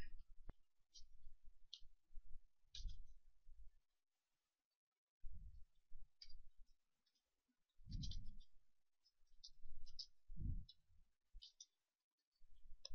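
Fingers type on a computer keyboard while writing a paragraph of HTML. The key clicks come in quick bursts separated by short pauses, close and fairly soft, with one longer silence midway.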